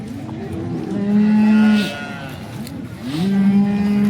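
A cow at the Sangola cattle market in Maharashtra moos twice, close by, with two long, loud lows separated by a brief pause and faint market background.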